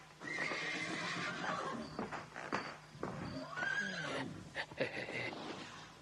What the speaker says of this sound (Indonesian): Kuda-kuda itu meringkih, seperti ada sesuatu yang mengganggu.